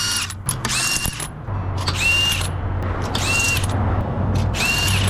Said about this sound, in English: So, I got myself a drill to make things easier.